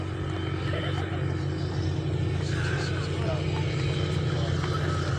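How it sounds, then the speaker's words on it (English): Helicopter flying over the Finke Desert Race track on race day, a steady loud rotor and engine rumble holding throughout, with the outdoor crowd noise of the event underneath. "The minute the Zero helicopter flew over the track"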